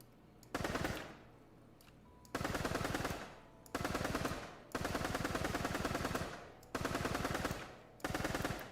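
Bursts of rapid automatic gunfire from a retro-style first-person shooter game, six sustained volleys of about one second each separated by short pauses, loud and alone.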